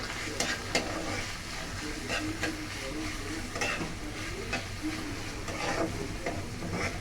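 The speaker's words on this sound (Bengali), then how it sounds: "এবার দিয়ে দিব লম্বা শিম তারপরে আবার নাড়াচাড়া করতে থাকবো" Long beans are stirred and tossed in a hot frying pan, a continuous sizzle broken by repeated scraping strokes of a spatula, moderately close and fairly quiet.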